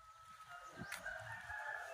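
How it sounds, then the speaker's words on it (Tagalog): A single faint rooster crow rises briefly over quiet outdoor background noise in a rural Philippine province. "may manok pa dito sa may itambayan namin"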